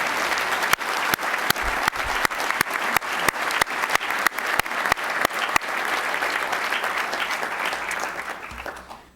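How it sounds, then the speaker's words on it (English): An audience applauds steadily, a broad wash of clapping with a few loud, sharp claps standing out, tapering off near the end. "Now you can clap, okay?"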